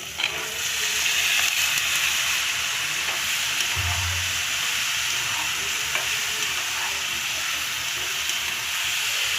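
Sliced flat beans and potatoes fry in a pan for a bhaji, a loud continuous sizzle and hiss that holds steady throughout, with light stirring scrapes underneath.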